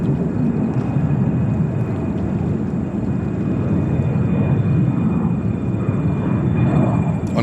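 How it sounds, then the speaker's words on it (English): An Asiana Airbus A350-900 lands at New York JFK, arriving from Seoul, its jet engines producing a loud, steady roar with a deep low rumble that carries on continuously, with no voices present. "this one is Asiana A350 900 coming in from Seoul,"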